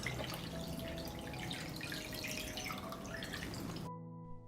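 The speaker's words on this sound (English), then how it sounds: "Pour water up to the height of the lid." Water poured into a cooking pan holding glass jars of summer fruit set on a cloth: a steady close splashing and dripping stream for several seconds that stops abruptly near the end.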